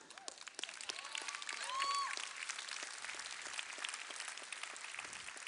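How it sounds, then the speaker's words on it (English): Steady applause from a crowd, a dense patter of many hands clapping. A few whoops and cheers rise briefly over it. "Yeah, you can clap."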